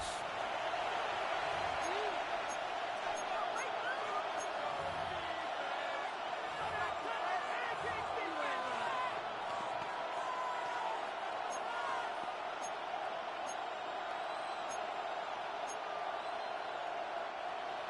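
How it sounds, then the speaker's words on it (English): Stadium crowd noise in a Madden NFL football game, a broad sustained roar with scattered whistles and shouts, under a broadcaster's voice talking. "The crowd making their presence felt."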